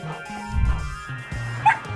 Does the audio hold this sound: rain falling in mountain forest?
no